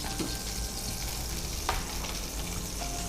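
Ghee and oil heat in a kadai for dal, giving a constant, fairly close sizzling hiss with a few faint clicks and one brief scrape.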